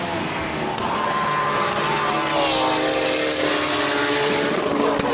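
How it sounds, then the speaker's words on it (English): A hillclimb race car with a 4-litre Infinity V8 and no exhaust roars past, a loud, raw, continuous engine howl with shifting pitch heard from nearby. "Infinity motor, 4-litre V8. Doesn't sound like it has any exhaust on it, actually."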